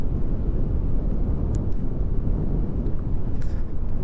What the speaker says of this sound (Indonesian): ternyata anginnya kenceng ya